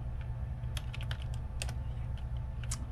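Login text typed on a computer keyboard: a quick, uneven run of light key clicks over a steady low hum, with no voices.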